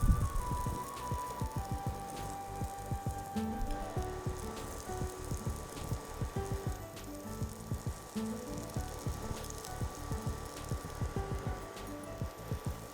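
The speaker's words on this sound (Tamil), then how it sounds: "இப்போ நம்ம இந்த தட்டி வச்சுருக்க இந்த மரவள்ளி கிழங்கு வில்லைகளை தவால இட்டு பொரிச்சிடலாம்" Mashed cassava cutlets sizzle on a hot tawa with a steady crackle broken by a dense rhythm of small popping bursts, heard up close over the whole stretch with no talking.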